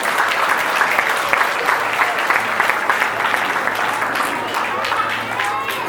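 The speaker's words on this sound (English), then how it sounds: "Let's all give a round of applause to all the elected leaders." An audience at a school investiture ceremony applauds the elected student leaders with dense, steady clapping that stays loud and unbroken throughout.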